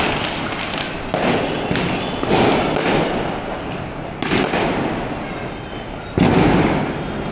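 Diwali firecrackers and fireworks bursting nearby, a series of sharp loud bangs at irregular intervals, each followed by crackling and a fading rumble.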